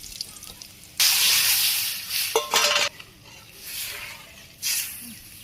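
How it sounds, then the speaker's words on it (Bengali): Lentils tipped into a pan of frying onions and ginger in a Bangladeshi village kitchen, giving a sudden loud sizzle that swells and fades, with a scrape or clink midway and another brief hiss near the end. "পেঁয়াজ ভাজি হয়ে গেছে আমি ডাল দিয়ে দিই"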